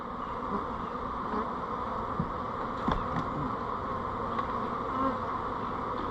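Dense, continuous buzzing of many honeybees fills the air as bees are shaken down into hive boxes to make nucs, close and steady, with a few soft knocks and clicks.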